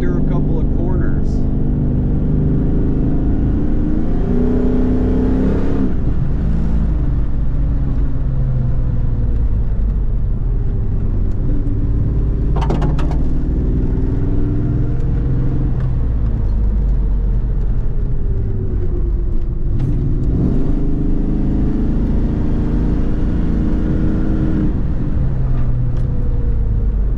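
A car engine drones steadily from inside the cabin as the car is driven through a couple of corners, revs swelling and easing in a continuous loud rumble.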